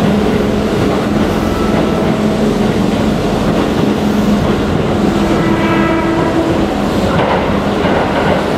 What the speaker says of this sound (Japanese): まもなく3番線を電車が通過します。